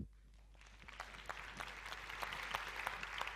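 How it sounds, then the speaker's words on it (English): Conference audience applauding a speaker at an SEO event in Brighton, starting sparse and swelling into a steady wash of many hands, moderately distant and without talk. "If we could have a huge round of applause for Stephan, please, everybody."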